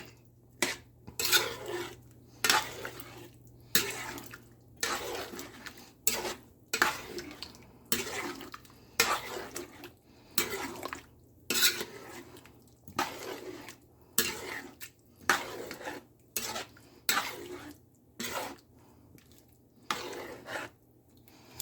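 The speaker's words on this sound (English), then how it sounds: "gotta stay on top of it, stir it" A spoon stirring a simmering pot of palau with chicken, rice, lentils and black beans, giving repeated scraping and clinking strokes in a steady rhythm, fairly close and moderately loud, with no talking.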